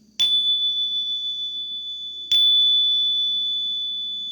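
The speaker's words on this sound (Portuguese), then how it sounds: "Vou tocar o sininho" A small meditation bell is struck twice a couple of seconds apart, each strike a bright clear ding that rings on and slowly fades, close and alone in a quiet room.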